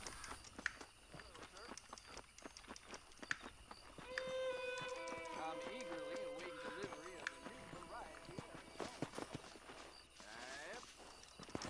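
Hooves of a horse clip-clop in the Red Dead Redemption video game, a steady trotting rhythm under game music, tonal effects and background talk.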